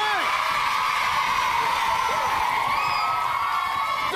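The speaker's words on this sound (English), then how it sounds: "give her a big round of applause." Studio audience of children at a game show cheers and whoops continuously, a bright shouting crowd under music-like tonal sounds, loud and sustained throughout.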